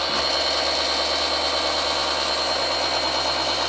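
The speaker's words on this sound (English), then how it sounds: "Now I'm going to hit it on the sandpaper side at the same angle, just lightly to basically take any crud off of it." A mini table saw fitted with a sandpaper side runs while a kitchen knife is lightly honed against it, giving a loud, steady motor drone and whine with no breaks.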